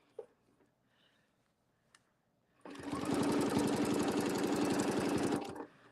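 A sewing machine starts after a quiet moment and stitches along a template in a fast, even mechanical chatter, loud and close, running for about three seconds before stopping.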